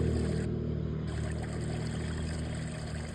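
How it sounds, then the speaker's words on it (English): Water from a bamboo fountain trickles and splashes in a continuous, gentle flow, with a low steady hum underneath and no voices. "I don't know if you heard that, but the bamboo water fountain"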